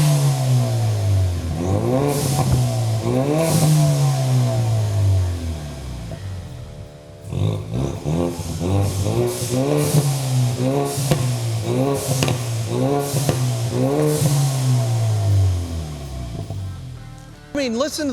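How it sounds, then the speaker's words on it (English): A 2018 Ford Mustang EcoBoost with a muffler-deleted exhaust revs loudly and repeatedly in rising and falling sweeps, up close and raspy, with a brief dip near the middle before the revving resumes. "first we're obviously gonna get some revs here."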